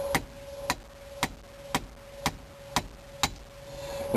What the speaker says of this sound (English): Sometimes you can put a little pressure on it and tap it